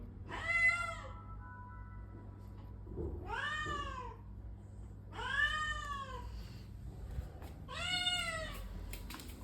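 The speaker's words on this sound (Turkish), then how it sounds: "O kedi azıcık yapmış ondan ağlıyor." A cat meows four times, long and plaintive, evenly spaced over a low background hum.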